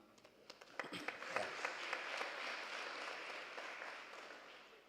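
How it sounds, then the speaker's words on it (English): An audience at a climate change bill public hearing in Makwarela Town Hall, Limpopo, starts with scattered claps that quickly swell into faint, distant applause, which holds steady and then fades. "I had warned you about this thing of clapping hands"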